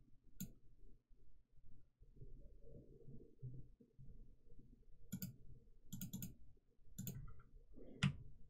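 Several sharp, quiet mouse clicks at a computer while pressing play in the Unity editor, spaced apart over a low background hum, with no talking.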